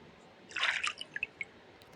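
Water dripping nearby: a brief splashy burst, then three or four faint separate drips, quiet and close, with no talk.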